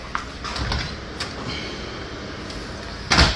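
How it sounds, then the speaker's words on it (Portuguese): A door is opened in a diesel vehicle repair workshop, with scattered rattles and clunks under a steady background hum, ending in a louder metallic bang. "Espera que eu vou abrir a porta para o rapaz aqui"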